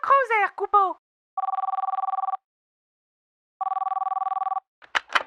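Outgoing phone call ringing back: two evenly spaced bursts of rapid warbling ring tone, each about a second long with silence between, preceded by a short synthetic voice announcement and followed by a voice at the end.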